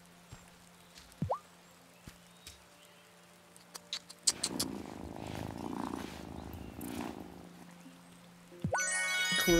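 A cat purrs while being petted in the Wylde Flowers video game, a soft rumbling purr rising mid-clip amid small game clicks and blips, with a chime flourish at the end.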